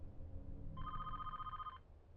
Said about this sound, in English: Then over the intercom, they heard the sound of a phone ringing in the security room.